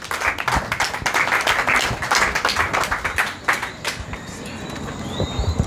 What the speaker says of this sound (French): Un applaudissement à Roselyne, s'il vous plaît.